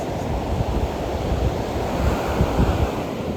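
Ocean surf rolls onto a Myrtle Beach shore, a continuous broadband wash of breaking waves with gusty wind buffeting the microphone throughout.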